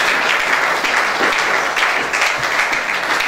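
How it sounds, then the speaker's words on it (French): A church congregation applauding, with dense, steady clapping from many hands that stays loud and close throughout. "Est-ce qu'on ne peut pas nous applaudir?"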